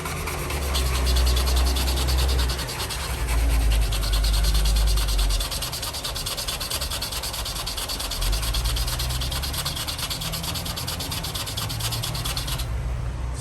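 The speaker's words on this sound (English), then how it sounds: "So the sanding actually works really good." Sandpaper is rubbed over a painted surfboard in a close, continuous scratchy rasp with uneven back-and-forth strokes.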